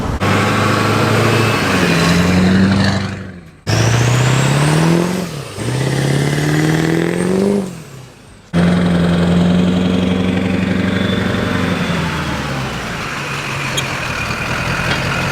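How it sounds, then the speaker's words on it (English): A built Duramax diesel pickup's turbo spools up with a rising whine as the engine pulls hard, in three loud acceleration runs split by brief shifts, then settles to a steady drone. "You can really hear that turbo spooling."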